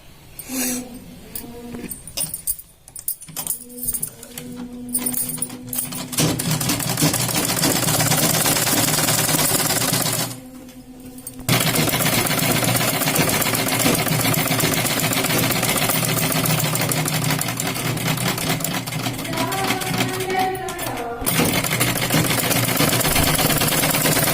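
A sewing machine stitches a square-neck katori blouse in a continuous whirring run, broken by short pauses early on and again midway, close and fairly loud.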